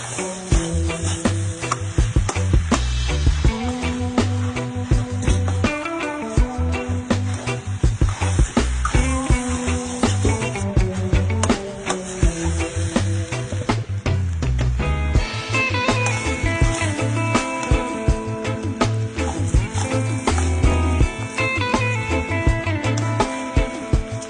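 Leftover rice tossed in hot oil in a pan for pork chao pan, with steady sizzling and rhythmic scraping and clattering of a spatula, close and continuous.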